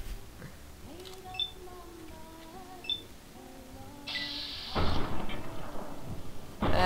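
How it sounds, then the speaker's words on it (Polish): Gunfire in the video game Fallout New Vegas, aimed at a bloatfly: two loud, broad bursts arrive in the final seconds, following quieter game tones and effects. "Dwa strzały w łeb i pada."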